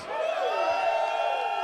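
A crowd at a live music producer showcase roars and whoops loudly, a dense sustained wave of cheering and shouting that swells right at the start and stays strong throughout.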